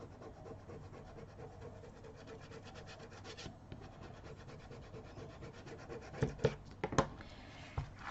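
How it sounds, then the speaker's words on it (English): Someone burnishes chipboard while making a lantern. Quiet, repeated rubbing strokes continue throughout, and a few louder scrapes come near the end. "Turn it, let's burnish it."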